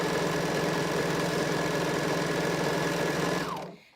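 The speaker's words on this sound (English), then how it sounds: "I do use my serger for this entire project." A serger sewing machine runs at a steady, fast hum with rapid stitching chatter, loud and close, before winding down and stopping near the end.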